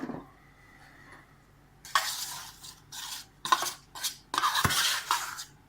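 Seasoning for fried chicken mixed in a bowl, quiet at first, then bursts of brisk scraping and stirring with light clinks of utensil against the bowl, close and alone without talk.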